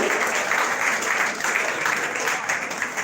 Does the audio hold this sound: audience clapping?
yes